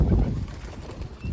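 Pigeons gather close by to peck at scattered millet, making soft low cooing and light shuffling sounds in a brief, quiet stretch.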